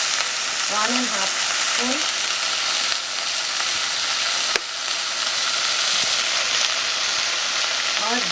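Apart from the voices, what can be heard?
spices sizzling in frying fish curry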